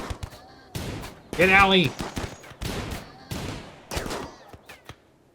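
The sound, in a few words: turrets firing in RimWorld video game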